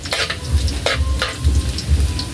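Shrimp adobo is stirred in a pan with a utensil, giving repeated scraping and clinking strokes over a steady sizzle. The sound is close and fairly loud, and no voices are heard.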